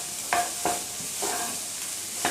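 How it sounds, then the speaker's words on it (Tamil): Okra being sautéed in oil for a South Indian stir-fry, with a few distinct spoon-stirring scrapes against the pan over a soft, steady sizzle, close and fairly quiet, no voices. "இந்த எண்ணெயிலேயே இந்த வெண்டைக்காய் நல்லா வதங்கி வெந்து வரணும்"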